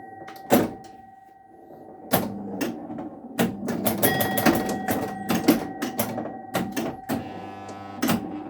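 A 1964 Williams Whoopee electromechanical pinball machine in play gives a sharp knocker bang, followed by bursts of clacking relays, scoring chimes and mechanical clatter in irregular clusters, close and fairly loud.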